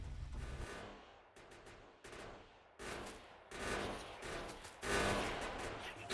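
Factorio gameplay gunfire: rapid automatic bursts in several separate volleys that grow louder and denser toward the end, with brief gaps between them.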